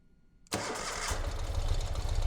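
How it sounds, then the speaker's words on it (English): A 2020 Ural Gear Up motorcycle engine cold-starts after a short quiet lead-in, catching abruptly and settling into a loud, steady, rumbling idle close by. "Good time to start the bike."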